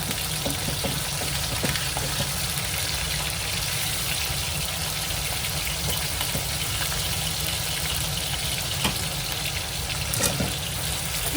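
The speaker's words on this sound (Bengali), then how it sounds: "মাছ কিন্তু আমি হালকা করে জাস্ট হালকা করে ভাজবো।" Hilsa fish frying lightly in a pan, a steady close sizzle with a constant low hum underneath and occasional faint clicks, no talking.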